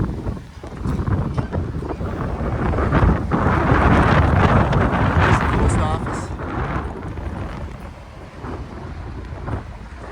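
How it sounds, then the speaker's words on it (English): A strong gust of wind buffets the microphone, roaring and swelling to a peak before easing into a steadier blustery rush. "Wow, that was a crazy gust of wind."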